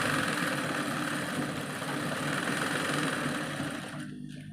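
A sewing machine runs steadily, stitching close along the pasted edge of a piece of cloth, a dense continuous whir that holds for about four seconds before slowing and easing off at the end, with no talk.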